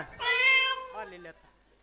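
A kitten gives one clear, rising-then-falling meow lasting about a second, close and fairly loud, with quiet afterward.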